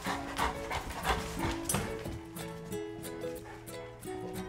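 A large pit bull dog pants close by with quick rhythmic breaths, mixed with rubbing and shuffling, over a background of tonal music.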